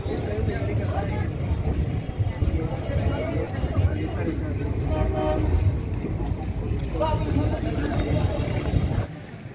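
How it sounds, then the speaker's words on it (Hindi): Inside a coach of the Agra Fort to Ajmer superfast special express, a dense, continuous rumble and rattle of the running train fills the air, with a horn sounding and muffled voices underneath. "ये है super fast special express Agra fort to Ajmer. अभी ये अजमेर से आगरा की तरफ जा रही है।"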